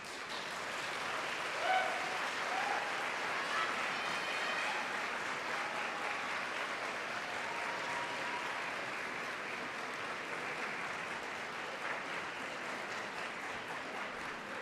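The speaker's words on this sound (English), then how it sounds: "I would like the graduates to join me in a standing round of applause" A large crowd at a University of North Georgia fall commencement ceremony gives the graduates a standing ovation, with dense, steady applause that fills the hall for the whole stretch and fades only slightly toward the end.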